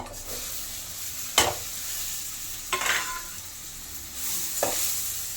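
Capsicum frying in oil and butter for paneer butter masala, a steady sizzle broken by three or four sharp scraping stirs of the spatula against the pan, close and alone.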